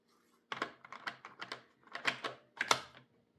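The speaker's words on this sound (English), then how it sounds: "Do you hear that sound? That's Foofy running down the steps" A pet running down a flight of stairs indoors, heard as a quick run of light, close thumps and taps in irregular bursts over a few seconds, with no talking.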